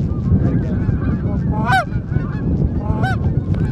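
Geese honk repeatedly during a hunt, with several loud, near calls rising over a steady low background rumble and no speech.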